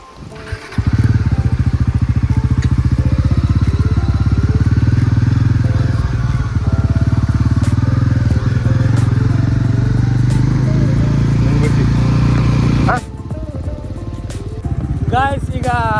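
A motorcycle rides a rough trail toward a hidden waterfall near Kudremukh and Netravathi Peak, its engine droning loud and close for most of the stretch before cutting out, leaving quieter ambient sound and brief chirps at the end.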